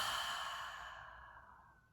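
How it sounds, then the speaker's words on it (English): A long, breathy exhale during a guided breathwork session, loud at first and tapering off over about two seconds, with no talk over it. "exhaling"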